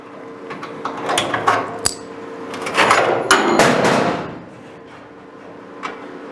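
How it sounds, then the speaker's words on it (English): Metal clamps being removed from a chopped car door frame, with a series of sharp clanks, knocks and scraping bumps clustered in the middle, close and moderately loud. "Now I can take the clamps off."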